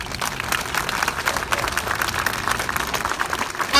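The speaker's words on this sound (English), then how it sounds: "Let's give them a round of applause." Warm applause from a gathered crowd at an anniversary event honouring a visiting delegation, dense clapping at moderate loudness throughout with a slight rise at the end.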